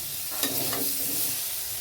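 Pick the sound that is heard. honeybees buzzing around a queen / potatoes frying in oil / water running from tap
potatoes frying in oil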